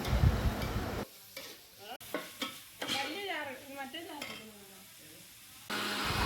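Onion and green chilli sauté in a pan for a coconut-roasted chicken curry, a close, steady sizzle at the start and end, with a voice speaking in between while the frying quiets and faint scrapes of stirring come through.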